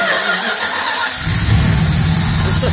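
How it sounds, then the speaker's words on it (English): A 383 big-block V8 with a purple camshaft fires up about a second in, settling into a loud, lumpy idle with a deep choppy exhaust note, heard close and alone. "Go to the back of the car so you can really hear the exhaust note."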